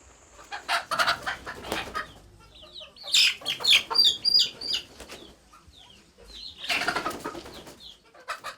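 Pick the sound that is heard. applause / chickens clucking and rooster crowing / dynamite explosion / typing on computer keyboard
chickens clucking and rooster crowing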